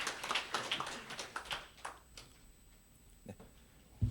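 Audience clapping for the chairman at an awards ceremony for a 2024 legislative and policy proposal contest, crisp and brisk for the first couple of seconds, then thinning to scattered faint claps before one last sharp clap.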